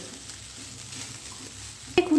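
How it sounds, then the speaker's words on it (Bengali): Coriander leaves are stirred into a frying winter-vegetable dish, giving a steady low sizzle with soft scraping. A louder clatter of the spoon against the pan comes near the end. "ধনে পাতা কিন্তু আমি খুব ভালো করে মিশিয়ে দিয়েছি"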